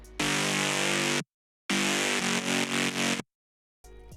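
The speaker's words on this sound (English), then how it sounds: "I just use this dirty bass." A gritty, distorted bass synth plays two sustained stabs separated by a brief silence, loud and buzzy with rough harmonics.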